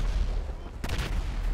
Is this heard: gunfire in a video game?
yes